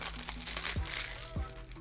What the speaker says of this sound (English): And now we can finally get rid of this foil.